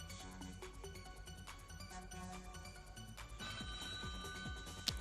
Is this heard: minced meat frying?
no